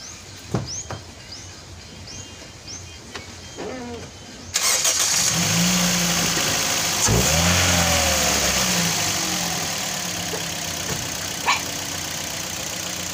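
A Toyota Vios engine cranks after a few faint clicks, catches and settles into a loud, steady idle with a brief rev, heard close up during an ignition coil check.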